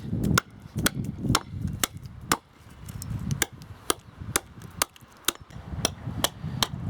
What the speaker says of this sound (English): how relatively easy it is to then use the axe just to remove all that excess